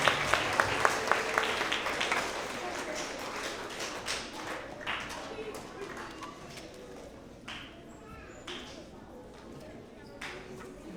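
Applause from an audience at a school award assembly honoring 4th and 5th grade students, a few sharp claps at first swelling into steady clapping, moderately distant, then gradually thinning out.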